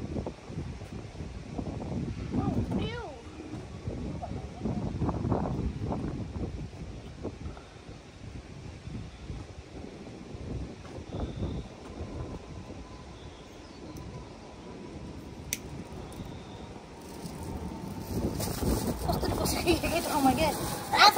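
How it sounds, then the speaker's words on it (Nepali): Gusty wind buffets the microphone in rumbling surges, rising and falling, while people talk nearby. "पुरा हावा चल्यो है कस्तो।"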